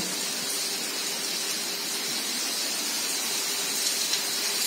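Heavy rain falls steadily as a dense, even hiss of water that holds at one level the whole time, with no voices.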